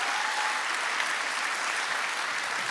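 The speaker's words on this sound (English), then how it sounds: "Let's give Tessa a round of applause, too." An audience at a charity fundraiser for kids gives a steady, dense round of clapping for a performer named Tessa, sustained and even throughout with no voices over it.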